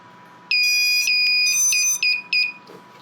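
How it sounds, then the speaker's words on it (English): A newly wired buzzer on an FPV drone build, a Detroit Multirotors WP17 prototype, sounds a series of loud, close, shrill electronic beeps in quick rising bursts: one long tone, then several short chirps, with no talking over them. "So buzzer's good."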